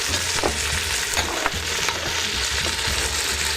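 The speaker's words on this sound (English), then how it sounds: "then I'm gonna saute our vegetables and get the base of the chili going" Vegetables sauté in a pan as the base of a tomato-based chili: a loud, continuous close-up sizzle with a few soft stirring scrapes.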